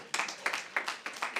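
A small audience gives faint, sparse applause at a PechaKucha Night talk in Sofia, with a handful of separate claps in an uneven rhythm over a quiet room.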